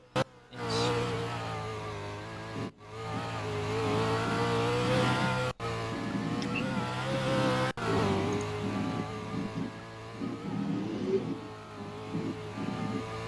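Race car engine revving at a time attack event, a steady mid-pitched drone with rising and falling throttle swells, broken by a few brief cutoffs, loud and continuous throughout.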